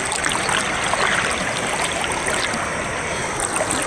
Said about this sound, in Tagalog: At saka yung agos niya hindi na katulad ng dati na malakas.